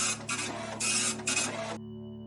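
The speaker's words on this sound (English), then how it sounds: "It's ready to be passed through the printer for printing." A printer runs in bursts, with several loud, close, mechanical passes of whirring and feeding separated by brief pauses, then stops with only a faint hum left.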